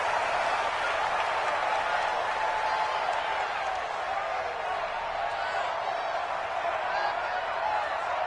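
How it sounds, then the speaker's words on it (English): Stadium crowd in an NFL video game before a Dallas Cowboys versus Atlanta Falcons matchup, a steady loud roar of cheering that holds evenly throughout, with no distinct claps or calls rising above it. "This crowd is ready as their guys get set to match up between the Dallas Cowboys and the Atlanta Falcons."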